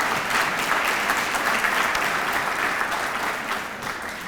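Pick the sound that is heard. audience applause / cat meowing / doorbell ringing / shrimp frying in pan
audience applause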